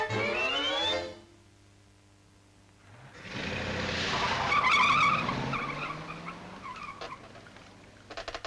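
A car skids with a loud tire squeal and engine roar, swelling to a peak mid-clip and then trailing off with some clattering; a quieter engine hum and a short gap precede it.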